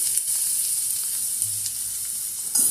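Onion curry with salt sizzles steadily in a pan, a close, continuous hiss of frying with faint stirring scrapes throughout.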